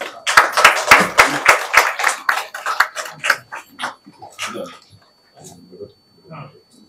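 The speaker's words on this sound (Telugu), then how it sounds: "అందరూ దయచేసి మీ చప్పట్లతో ప్రోత్సహించవలసిందిగా అభ్యర్థన." Audience applause at a Telugu literary stage event during a book presentation: a dense burst of clapping up front that thins into scattered claps and murmuring voices before fading out.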